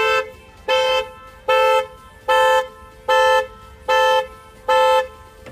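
A 2019 VW Tiguan R-line 2.0 BiTDI alarm horn blasts seven loud, evenly spaced honks in a steady on-off rhythm, close by, with no voices.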